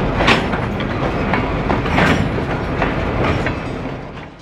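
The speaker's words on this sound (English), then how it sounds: "the train starts to roll south out of town" A train on a branch line starts rolling south out of a small town at dawn, with loud, steady rumbling and rhythmic clickety-clack wheel beats over the rails, close and continuous.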